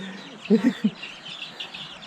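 A hen clucks among her chicks in a rural Lao village, giving a few close, low clucks in quick succession over faint outdoor background and soft chick peeps.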